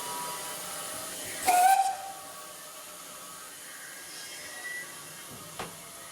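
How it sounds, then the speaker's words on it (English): A single short steam locomotive whistle blast rises above a quiet hiss, then fades into soft background noise with a faint clank later. "And whistle, whistle, whistle, whistle."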